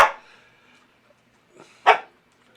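A dog indoors gives two short barks, a sharp one at the start and a louder one about two seconds later, close to the microphone in an otherwise quiet room.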